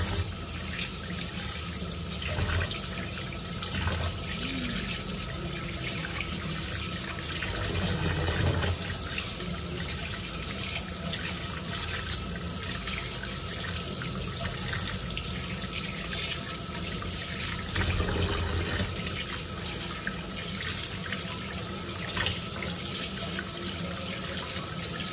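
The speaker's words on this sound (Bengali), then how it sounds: "চলো চিকেনটা ধুয়ে নিই" Tap water runs steadily into a sink as chicken is washed, a continuous close rushing flow with occasional louder splashes, lasting about 25 seconds.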